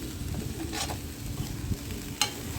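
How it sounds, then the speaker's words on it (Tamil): Masala sizzles softly in a hot pan while a spoon stirs and scrapes now and then, quiet and close, while cooking cluster bean stir-fry with onion. "இப்போ அந்த மசாலா போட்டு நல்லா வதக்கிக்கணும்"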